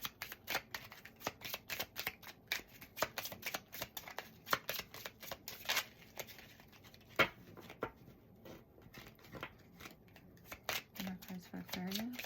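Tarot cards shuffled by hand during a reading, a quick, steady run of soft riffling clicks and slaps lasting the whole stretch, close and fairly quiet, with a faint voice in the background at moments.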